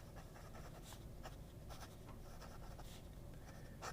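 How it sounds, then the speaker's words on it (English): A Leonardo Furore fountain pen with a 1.1 stub nib writes a few words in shimmer ink on paper, a soft continuous scratching with brief strokes, close and quiet, with no talking. "And just to write a few more words."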